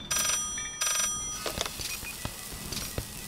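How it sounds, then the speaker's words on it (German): Telephone ringing in the management game Rec Center Tycoon: two short, bright electronic ring bursts close together at the start, followed by scattered clicks and game effects. "weil es Telefon wieder klingelt"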